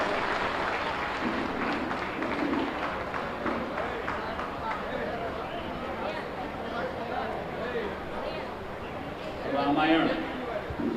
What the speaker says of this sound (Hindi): एक बार जोरदार तालियों से पुनः हम माननीय मुख्यमंत्री जी का अभिनंदन करते हैं।